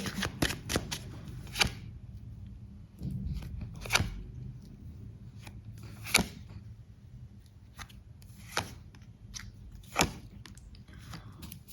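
A deck of tarot cards being shuffled by hand gives a series of crisp riffling bursts at irregular intervals, close and clear above a low background hum, with no talking.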